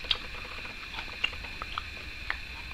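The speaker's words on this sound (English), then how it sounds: "Do you want to move down near the microphone so they can hear you crunching them all?" Someone close to a microphone chews and crunches crickets, with scattered sharp crisp cracks over a quiet background and no talking.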